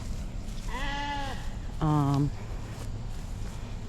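Ewes out on pasture let out two distinct bleats in quick succession, the second shorter and louder, over a steady background hiss.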